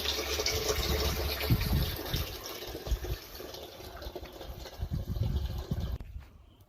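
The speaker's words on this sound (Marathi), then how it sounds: "आलो बॅलर घेऊन त्याला पाणी चालू" Water pours steadily into a barrel on a pomegranate farm with a rushing, splashing gush for about six seconds, then cuts off abruptly.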